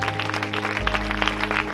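Loud applause from a church congregation: brisk, dense clapping over sustained organ-like music with a low bass note, close and continuous.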